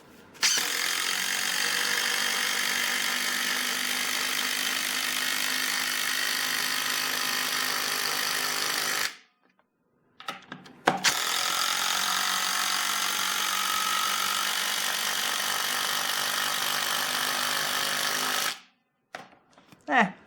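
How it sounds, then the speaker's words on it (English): A DeWalt Atomic impact driver sinks 5-inch Timberlock deck screws into a 6x6 cedar post: two long, loud, close runs of steady hammering rattle, each around nine seconds, separated by a short silence. "These are 5-inch Timberlock deck screws into a 6x6 cedar post. So we'll just sink a couple of these bad boys"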